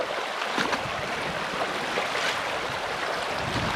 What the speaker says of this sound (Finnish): Nyt on enemmän vettä kuin viime vuonna.